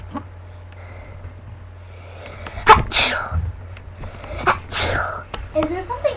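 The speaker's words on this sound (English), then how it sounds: "I keep sneezing" A person sneezes several times in short, sharp bursts, close and loud, with brief vocal sounds between the sneezes over a low steady background hum.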